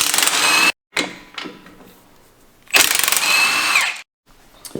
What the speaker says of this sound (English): you can get the nut loose and ratchet it off